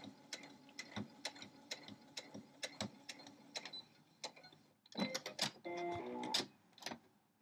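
A sewing machine stitching straight lines with green thread in top and bobbin runs in a steady run of sharp mechanical ticks, then a brief faster burst of clatter near the end; quiet and close, with no talk.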